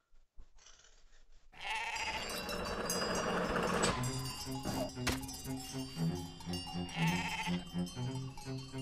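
Sheep bleat repeatedly in the Gomo video game over a jingling, tinkly game soundscape, several wavering calls rising and falling in a steady rhythm with no speech.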